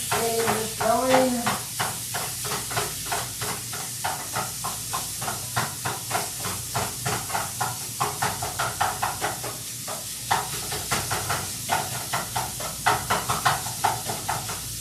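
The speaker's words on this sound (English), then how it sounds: "I've got my water almost to a boil." Water in a cooking pot heats almost to a boil on a kitchen stove, giving a steady steamy hiss with a quick, rhythmic bubbling pulse that carries on throughout. A brief voice-like sound appears near the start.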